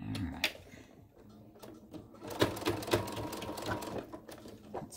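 Sewing machine with a quarter inch foot stitching a quilt rod pocket, quiet close mechanical whirring and clicking in short bursts.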